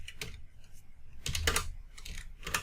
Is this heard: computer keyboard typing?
yes